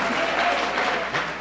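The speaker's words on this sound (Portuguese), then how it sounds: "Aplauda o Senhor e diga amém," A church congregation applauds during a Nova Vida service, a dense, steady wash of many hands clapping together that stays level throughout with only slight swells.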